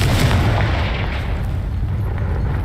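A Confringo fire spell explodes in Hogwarts Legacy, a loud sustained blast with heavy low rumble that stays dense and unbroken throughout, with no talking.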